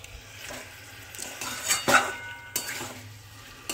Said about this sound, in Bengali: ঢাকাটা খুলে আমি নাড়ছি, একটু নেড়ে দিলাম